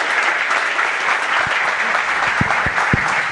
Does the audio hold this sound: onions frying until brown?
no